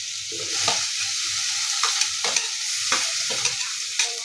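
Garlic fries in a pan with tomatoes just added, a steady close sizzle broken by repeated stirring scrapes and clatters at an uneven pace, with no voices.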